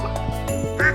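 Farm ducks in the Stardew Valley video game give a few short, close quacks in quick succession, alongside a faint game jingle and steady background music.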